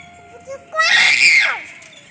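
A child screams shrilly and close for under a second during a Tulsi Vivah celebration, preceded by faint indistinct voices and quiet background.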